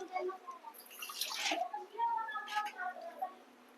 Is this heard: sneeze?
no